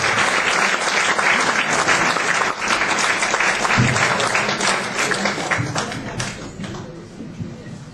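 Loud, sustained audience applause fills a hall during a ceremony for a new building, dense clapping continuing steadily for several seconds before thinning slightly toward the end.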